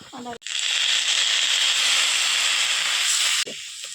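Ginger garlic paste hitting hot spiced oil in a pan for a rohu fish curry, giving a loud, steady sizzle that starts abruptly and holds for about three seconds before cutting off.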